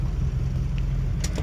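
A 7.3 diesel truck engine with compound lift pumps runs at quarter throttle, a steady, heavy low rumble close by, with no talking over it.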